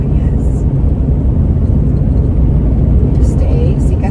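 A truck camper drives down the road with a loud, steady low rumble of engine and road noise filling the whole cabin, while a voice talks over it.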